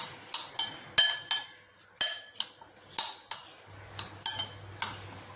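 A metal spoon stirring onion salad with vinegar in a bowl makes a steady series of sharp, close clinks at an irregular rhythm, about two per second, with no voices.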